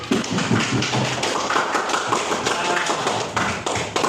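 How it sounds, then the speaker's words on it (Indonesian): Applause from an audience at a teachers' training session, a dense, continuous patter of many hands clapping at a steady level with no speech over it. "Oke, beri aplaus untuk Pak Dik."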